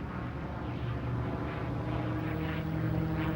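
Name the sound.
P-51 Mustang aircraft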